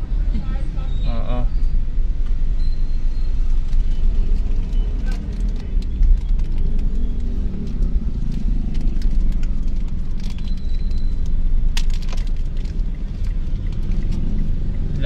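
Steady rumble of road traffic with cars and buses heard from inside a vehicle driving around San Pedro, Laguna, a continuous close drone with occasional clicks and ticks, while people talk over it.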